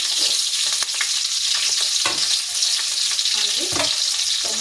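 Onions, green chilies and garlic frying in a pan, a loud, dense, continuous sizzle with scattered pops and light scraping from stirring, close up with no talking.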